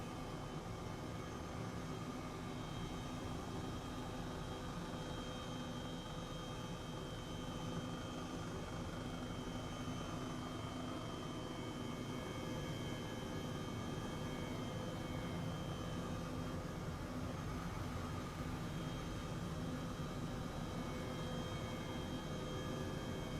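Steady, loud turbine whine and rotor roar from an H135 helicopter lifting off and flying out of Charlotte, heard as a continuous dense drone with even level throughout and no voices.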